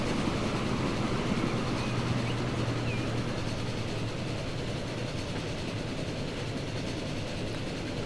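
Steel freight train passing in the Transport Fever video game: continuous rumbling roll of wagons with a steady low drone and faint rhythmic clatter, loud and unbroken across the whole stretch.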